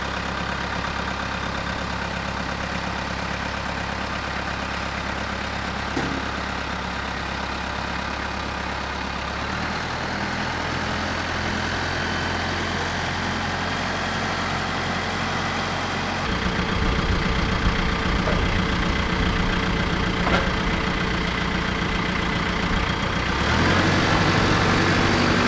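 A tractor engine idles steadily at close range, a continuous low rumble with no voices, its tone shifting and growing slightly louder partway through.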